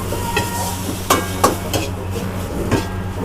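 Minced beef for a spicy khua kling stir-fry hisses in a hot pan as it is pressed into curry paste, a continuous close sizzle broken by several sharp spatula knocks and scrapes, and no voices.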